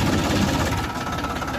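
A Farmtrac tractor engine running while towing a trolley stuck in the field, a low steady diesel rumble heard up close with no speech.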